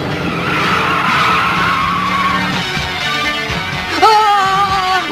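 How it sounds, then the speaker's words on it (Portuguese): Cartoon car braking hard, a long tire screech with skidding squeal that rises sharply near the end, loud and close with no talk over it. "Pise no freio, Turbo Man."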